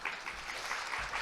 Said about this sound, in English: I'd ask that everyone give them a round of applause